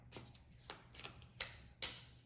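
Tarot cards are shuffled by hand, giving a few soft, brief riffling bursts spaced irregularly, close and quiet, with no talking.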